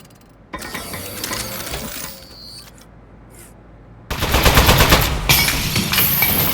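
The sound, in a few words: turret firing bullets in a Portal-style video game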